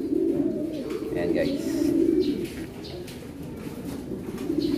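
A racing pigeon hen of a long-distance racing line coos softly and low, a steady murmur of calls beneath someone talking nearby.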